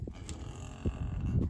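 Cattle at a farm during calf tagging, with cows and calves being paired up, give low lowing moos in short swells over a steady rumble of nearby animal noise, with no talk.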